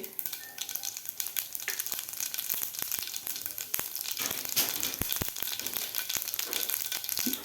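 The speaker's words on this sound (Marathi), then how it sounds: "जिरे आणि मोहरी आपली व्यवस्थित फुललेली आहे" Half a spoon each of mustard seeds and cumin spluttering in three spoons of hot oil, a busy crackle of sharp pops and sizzle, close and steady with no voices.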